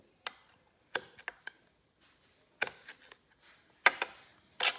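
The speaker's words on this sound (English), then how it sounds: "you need to cut in some avocados and of course some tomatoes" Knife chopping avocados and tomatoes for a salad: sparse, sharp chops in small clusters, close and fairly quiet, with silence between them.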